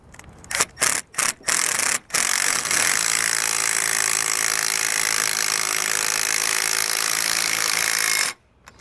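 A self-tapping Phillips screw is driven in while mounting a Solera slide-out awning on a 2021 Forest River RV: a few short bursts, then one steady whirring drive of about five seconds, close and loud, before it stops.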